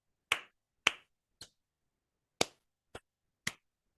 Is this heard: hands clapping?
yes